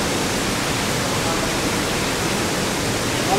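Devi's Falls in Pokhara roars as a dense, steady rush of falling water, uniform and continuous with no other sounds standing out.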